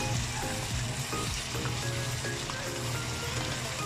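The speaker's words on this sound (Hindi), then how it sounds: "हमारा गोश्त जो है भून चुका है" Beef fries in a pot with a dense, loud, continuous sizzle and crackle, close up and steady, with faint stirring scrapes and no talk.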